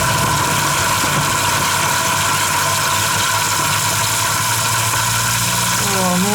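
Kitchen sink waste disposer grinding scallop shells with running water, a steady loud mechanical motor drone with a churning grind throughout and a rising whine near the end.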